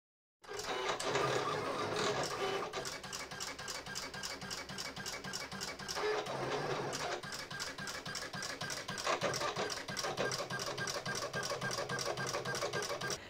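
An electronic cutting machine slices paper for a photo box, starting suddenly and running steadily with a rapid, rhythmic mechanical chatter and whir that stays loud and close throughout.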